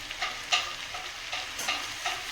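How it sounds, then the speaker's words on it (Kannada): Pumpkin, potato and carrot pieces frying in oil, a soft steady sizzle broken by regular scraping stirs about every half second, close and fairly quiet, with no voices. "ಈಗ ಒಂದು 5 ನಿಮಿಷ ನಾವು ಇದ್ರಾಗ ಎಣ್ಣೆಗೆ ಬೇಯಕ್ಕೆ ಬಿಟ್ಟಿವಲ್ಲ"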